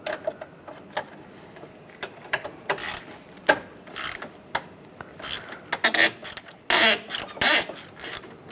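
A hand ratchet clicks in quick irregular bursts while loosening bolts on the radiator cooling fan control module of a 2005-2010 Chrysler 300, close by and alone with no talk.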